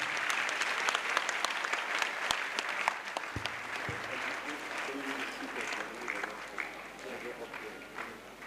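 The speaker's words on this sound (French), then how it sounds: "Clap to the Lord. Acclamez pour le Seigneur." A church congregation claps hands in praise during a crusade service, a dense, steady wash of applause running throughout with a voice speaking over it.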